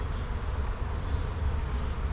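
A dense, steady buzz of many honeybees in a hive close by, faint and continuous without pauses.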